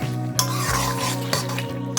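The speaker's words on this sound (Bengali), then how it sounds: "ঢাকনাটা খুলে দিলাম, এবার নাড়িয়ে দিচ্ছি" Ridge gourd curry is stirred in a pan over low heat just after the lid comes off, with a soft continuous simmer and a few distinct scrapes of the spoon against the pan.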